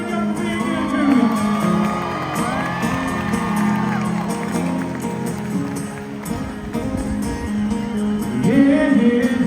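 A concert crowd in Florida cheers and whoops, with scattered shouts and whistles rising and falling throughout, fairly loud and close, no clear talking.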